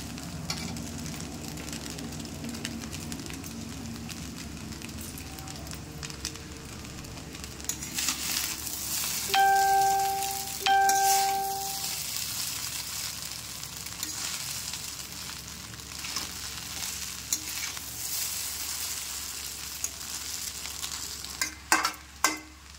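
Pre-fried potatoes are tossed into chowmein in a hot pan, which keeps up a long, even sizzle while a utensil stirs with scattered scrapes; a couple of brief electronic beeps sound midway and sharper knocks come near the end.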